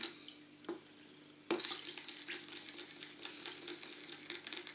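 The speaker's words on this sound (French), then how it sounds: "vous mélangez jusqu'à ce que toute la levure soit incorporée" Yeast being stirred into lukewarm milk in a bowl for buckwheat blinis, soft liquid swishing with light spoon clinks, then a sharper tap followed by steady close stirring.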